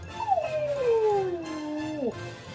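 A bulldog lets out one long, close howl that slides downward in pitch and ends with a brief upward wobble, heard alone without talk.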